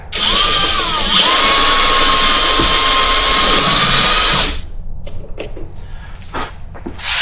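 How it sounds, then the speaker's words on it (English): A power drill whines loudly and steadily for about four seconds as it marks a center point on a vehicle transfer case part, then stops, leaving a few scattered clicks and handling knocks. "I've got a washer with a drill bit that fits perfect, just to make a central mark"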